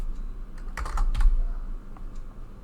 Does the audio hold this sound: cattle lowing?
no